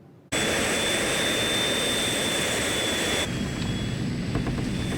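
Jet engines of a heavy airliner roar steadily in flight, a loud, constant broadband rush with a high whine running through it, shifting slightly in tone partway through.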